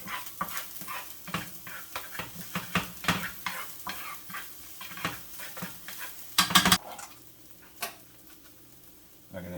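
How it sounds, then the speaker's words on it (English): Minced garlic, ginger and scallion sizzle in a little hot oil in a pan, with repeated scraping stir strokes, a few louder clatters of utensil on the pan, and crackling frying underneath. "with a little oil in a hot pan, and then we're going to add some minced up garlic, ginger, and scallion"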